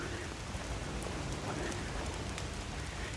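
Steady rain falls in a London park on a wet morning, a continuous dense hiss of drops pattering close around with no talk over it.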